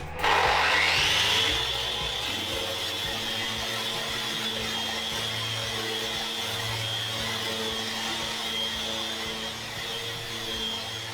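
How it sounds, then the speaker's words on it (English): Festool Rotex 150 geared sander running in random orbit mode with 60-grit paper on a wooden sill, hooked to a dust vacuum: a loud, steady motor drone and abrasive hiss that spins up at the start and holds throughout, with no talking. "first up we've got the Rotex, the 150 geared sander. I'm going to try this on the random orbit mode with 60 grit sandpaper"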